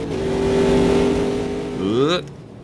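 Race car engines in the Automobilista 2 sim racing game roar loudly at close range, holding a steady whine before climbing through a rising rev sweep and cutting off abruptly near the end.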